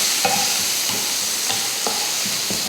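Onions sizzle steadily in hot oil in a kadai with curry leaves and green chillies, while a spoon stirs and scrapes the pan in repeated strokes every second or so, loud and close.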